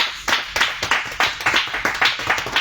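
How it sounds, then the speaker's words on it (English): Classroom audience clapping for the boys' team, a steady run of brisk, fairly close hand claps from a small group, evenly spaced and sustained, with no speaking. "Let's clap for them."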